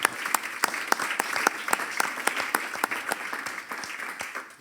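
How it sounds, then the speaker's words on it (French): A small audience at the Envirobat Grand Est 2021 award ceremony claps for the prize winners, with distinct individual claps in a loose, moderately quiet round and no speech. "Et on vous applaudit bien évidemment aussi à ces lauréats"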